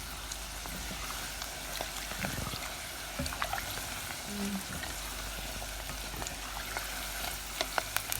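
Prawns frying in oil over medium heat, a steady soft sizzle with occasional pops and light stirring clicks, fairly quiet and close, no talking.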